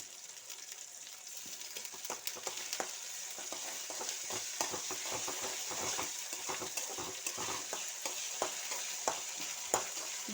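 Small whole tilapia fried in oil with garlic and ginger paste, a steady bright sizzle running throughout with frequent sharp scraping clicks of stirring, close and fairly loud with no talking.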